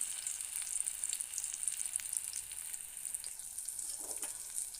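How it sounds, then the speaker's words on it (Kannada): Bondas frying in hot oil give a steady, fairly soft crackle and fizz with scattered small pops, close by and continuous, no voices. "ಅದೆಲ್ಲ ಬೋಂಡವನ್ನು ನಾನು ಎಣ್ಣೆ ಒಳಗೆ ಹಾಕಿ ಫ್ರೈ ಮಾಡ್ಕೊತಾ ಇದ್ದೀನಿ"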